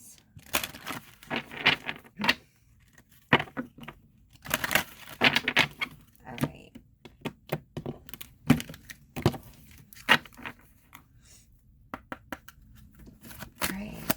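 Repeated crisp riffling and flapping bursts of card shuffling, several rounds in irregular clusters with short pauses between, close and fairly loud.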